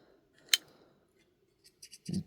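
A single sharp metallic click, then a quick run of small snipping clicks as the scissors of a Leatherman Wave Alpha multitool open and cut, close and fairly quiet.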